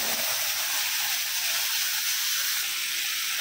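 Spice paste hisses and sizzles steadily in hot oil with dry chilli and fennel, a loud, continuous frying roar held close and unbroken throughout, with no talking.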